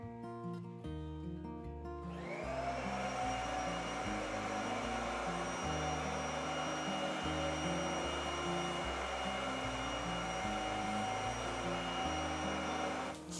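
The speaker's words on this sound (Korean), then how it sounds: "지금 잠깐 컬비 청소기를 밀었을 뿐인데 분진이 엄청 나왔거든요" A Kirby vacuum cleaner starts up in a newly built or remodeled home during dust cleanup, its motor rising into a steady, loud whining drone that runs continuously without pause.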